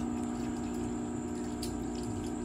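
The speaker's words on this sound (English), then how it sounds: "The pump is on. You can hear it." A hydroponic vertical grow tower's pump hums quietly and steadily while water trickles and drips back into the reservoir, faint and close, with no talking.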